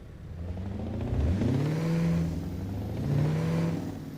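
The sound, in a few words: car engine revving in a video game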